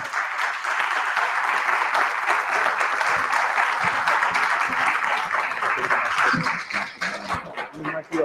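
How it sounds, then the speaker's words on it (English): Loud, sustained applause from a crowd for several seconds, tapering off toward the end with a few scattered claps. "Give him a big round of applause."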